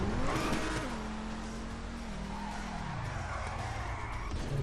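Car in the Scene Director video game braking, with engine tone falling in steady downward steps and a continuous tire-skid rasp throughout, loud and close with no talking.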